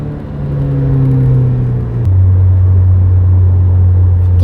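Toyota race car engine at Silverstone, apparently an AE86, heard from inside with a loud steady drone that drops in pitch at a gear change and then holds a deep, even note.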